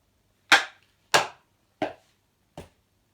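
A body drops onto the floor during a dance-style legwork exercise, four sharp thuds about two-thirds of a second apart, each a little softer than the last, close by in an otherwise quiet room.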